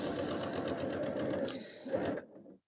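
A sewing machine stitches a pillow with the presser foot following an earlier row of stitching, running in one steady close burst for a couple of seconds before stopping.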